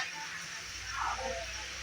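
Gram flour batter for motichoor laddu fries in hot oil with a steady soft sizzle, close and fairly quiet, with a brief brighter hiss midway.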